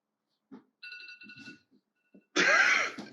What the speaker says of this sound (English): I forgot I had an alarm up on my iPad.